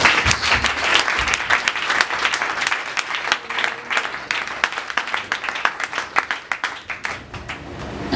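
A church congregation bursts into sustained, lively applause during a French-language Sunday service: dense, crackling clapping from many hands that runs throughout, close and loud, with no clear speech.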